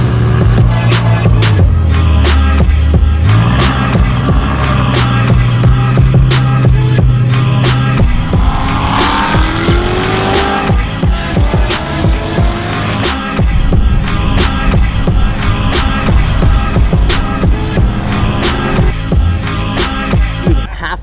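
Loud, continuous engine roar of a McLaren sports car accelerating and shifting at speed on a race track, rising whine with rattling road noise throughout, no pauses.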